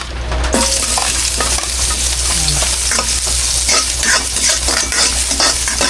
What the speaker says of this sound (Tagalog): pag ako yung nagigisa, inuna ko yung luya